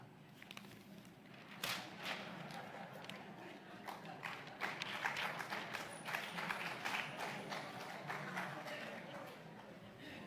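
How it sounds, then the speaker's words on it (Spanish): Applause from a church audience during a sermon: uneven, fairly close clapping that builds and grows denser midway, with some voices mixed in. "Le aplauden a su lista de acusación."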